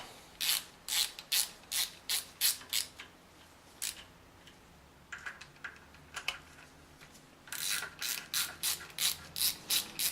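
A hand ratchet clicks in quick repeated bursts while running down bolts on a BMW M52 engine during an overhaul, crisp and close in a quiet workspace, pausing briefly between strokes.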